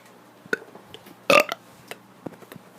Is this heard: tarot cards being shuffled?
no